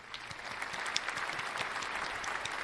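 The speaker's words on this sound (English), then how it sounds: "There's a big clap there." An audience applauds in a sustained burst of dense, crackling clapping, fairly close and steady with a few sharper individual claps standing out.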